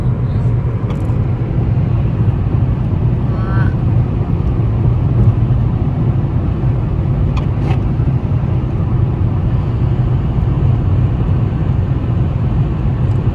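Interior of a car cruising on the highway from Vancouver to Kelowna: a steady low road rumble and engine drone fills the cabin, with a few faint clicks and brief soft sounds over it.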